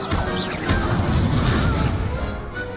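Expelliarmus disarming spell cast during a duel in Hogwarts Legacy: a loud magical crash and boom with a swooshing burst, dense and close, in the midst of combat noise.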